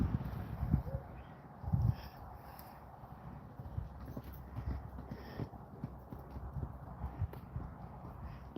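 Hooves clop slowly and unevenly on the ground as a horse walks nearby, with faint rustling in the background.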